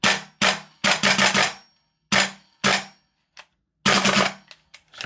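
A Guns Modify SCAR-L MK2 MWS gas blowback airsoft rifle fires semi-auto, loud close sharp shots in quick bursts of several, then a few lone shots, with brief silences between groups.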